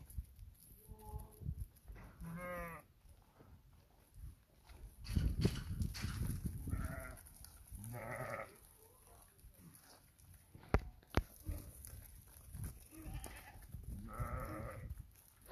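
Goats and sheep bleat repeatedly, several animals calling in turn at close range, with some shuffling and movement noise between the calls.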